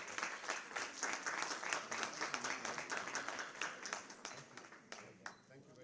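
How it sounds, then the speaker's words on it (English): Audience applause at a cancer awareness conclave in Jammu, a dense spread of claps that grows thinner and fades toward the end, with some murmuring voices mixed in. "Let's give a big round of applause, ladies."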